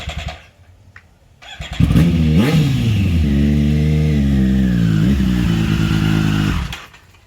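A 2020 Triumph Street motorcycle fitted with an SC Project S1 titanium exhaust starts up, then idles loudly and revs with a deep burbling rumble before cutting off, close by.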